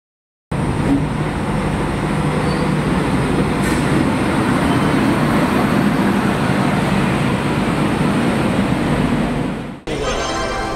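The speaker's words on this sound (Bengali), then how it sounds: "কালকা হাওড়া নেতাজি এক্সপ্রেস দীনদয়াল উপাধ্যায় জাংশন ছেড়ে দিল" The Kalka Howrah Netaji Express pulls out of Deen Dayal Upadhyaya Junction with a steady, loud rumble and rattle of rolling carriages for about nine seconds before it cuts off abruptly.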